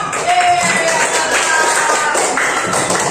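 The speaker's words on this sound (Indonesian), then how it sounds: "Oke, itu tepuk tangan" A group breaks into steady applause, dense overlapping claps filling the whole stretch at a fairly close, even level, with a few voices mixed in underneath.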